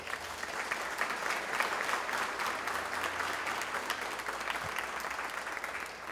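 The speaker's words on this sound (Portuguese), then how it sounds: "Bate palmas para Jesus." A church congregation claps steadily through a sermon, dense and sustained rhythmic applause filling the room at moderate level with no voices on top.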